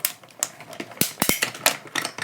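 A small cut and emboss machine feeds paper through with irregular clicks, taps and mechanical clatter, close and fairly quiet, with no talking.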